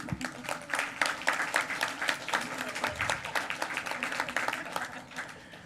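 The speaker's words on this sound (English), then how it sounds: "let the crowd applaud for you" A city council meeting crowd applauds pre-K children, a lively patter of many hands clapping with uneven individual claps standing out, fairly close and moderately loud, and a brief murmur of voices underneath.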